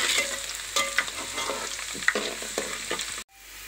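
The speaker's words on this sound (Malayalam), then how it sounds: "ഇനി അതിനെ ഒന്ന് ഇളക്കി കൊടുക്കാം." Chopped ginger and spices stirred in hot oil for a country-style mango pickle, a close sizzle with irregular spoon scrapes and clinks, ending abruptly in near silence.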